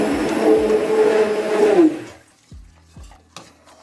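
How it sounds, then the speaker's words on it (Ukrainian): A spoon stirs milk in a saucepan on an electric stove, scraping across the bottom with a soft bubbling hiss for about two seconds. A few light clinks of the utensil against the pan follow in near silence. "Помішую молочко, щоб воно не пристало до дна кастрюлі."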